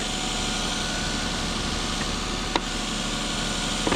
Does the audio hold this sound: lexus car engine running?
yes